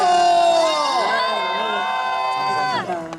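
A festival audience at an IU live interview event cheers and shouts after a group toast, sustained voices rising and falling together, loud and close, fading near the end.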